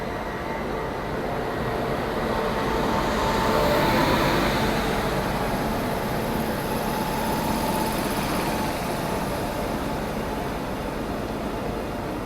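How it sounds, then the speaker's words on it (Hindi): The Bhubaneswar Duronto Express, a weekly train, rolls into an Indian railway station with a continuous loud rumble and mechanical drone. The noise swells slightly as it nears and stays steady and close throughout. "तो ये सामने से आ रही है अपनी भुवनेश्वर दुरंतो एक्सप्रेस, जो कि वीकली ट्रेन है"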